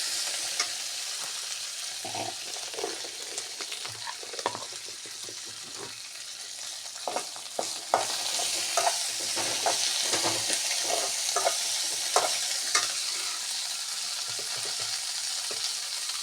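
Home-grown mint and coriander leaves roast in a pan, a continuous sizzle broken by repeated scraping stirs and light clinks, close and moderately loud.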